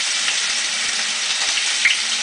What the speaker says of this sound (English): get a nice sear going.